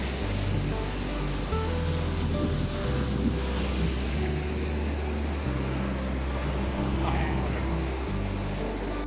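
Ocean waves washing in at Al Mughsail beach, a continuous loud surf roar with a low rumble and some wind buffeting, no talk.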